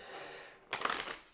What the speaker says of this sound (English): So let's begin a couple shuffles here with the Tarot of the Abyss.